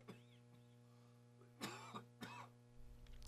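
A few short coughs and throat clearing from a man with a head cold, close and fairly loud, followed by a sharp noise at the end, against a steady low hum.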